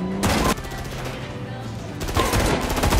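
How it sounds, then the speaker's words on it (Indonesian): Gangster gunfight in an action film: dense automatic gunfire bursts sound at the start and again near the end, with a sustained rumbling layer of continuous shots and noise in between. "Tiba-tiba terdengar suara baku tembak antar gangster."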